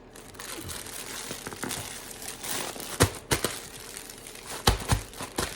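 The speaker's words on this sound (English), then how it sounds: "Put me some eBay tape on there. Help seal it." eBay packing tape pulled and pressed onto a cardboard package to seal it, with crinkling and rustling broken by several sharp tearing rips near the end, close and fairly quiet.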